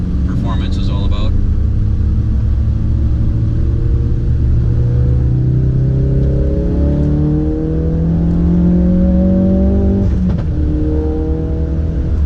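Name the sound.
Ford Focus RS with MRT cat-back exhaust accelerating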